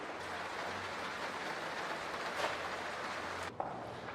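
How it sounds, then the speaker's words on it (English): Steady rain falls outdoors over a garden, a soft continuous hiss at low level with no voices, briefly interrupted by a faint knock near the end. "Still raining."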